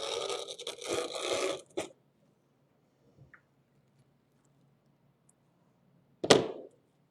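A rotary cutter slices through wreath-making material in two separate passes: a longer rasping run of about two seconds, then after a quiet pause a brief, sharp cutting swipe.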